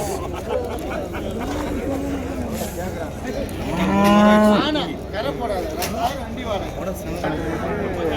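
Cattle moo loudly at a busy livestock market in Vaniyambadi, with one long nearby low moo rising over a steady crowd babble and people talking throughout.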